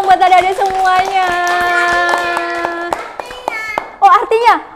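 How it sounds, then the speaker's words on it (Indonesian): Clapping for young children at a preschool event: sharp, rapid handclaps run under children's voices that chant and talk throughout, with louder bursts of voices near the end. "Tepuk tangan dong buat adik-adik semuanya"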